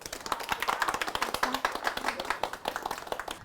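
A modest audience at a village gathering in Dalin, Chiayi claps to welcome the owner of a traditional Chinese herbal medicine shop, with distinct individual hand claps in an uneven patter, fairly close and alone.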